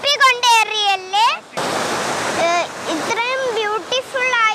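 Rushing water from Kattara waterfall near Puthukkulangara forms a steady broadband roar in the middle of the clip, with a person talking close by before and after it.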